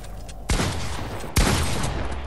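Two loud, close gunshots ring out in the Fortnite video game, sharp blasts a little under a second apart, each followed by a lingering echoing tail.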